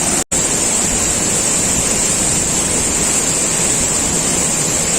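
Vegathanam waterfall in the rainy season roars as a loud, steady broadband rush of falling water and blowing mist, heard up close with nothing else over it apart from a brief dropout near the start.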